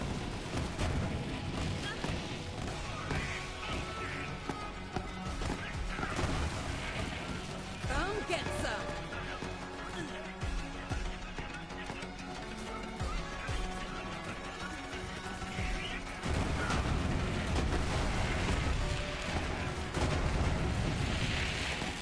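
Shock launcher explosions boom repeatedly in Borderlands 3 while playing as Moze, rumbling, blasting and crackling in a continuous loud barrage, with someone talking over the combat.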